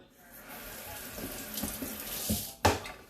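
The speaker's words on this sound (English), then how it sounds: "I'm gonna rinse off the pan." Tap water runs into a sink as a pan is rinsed, a steady close splashing rush with a sharper clatter of the pan near the end.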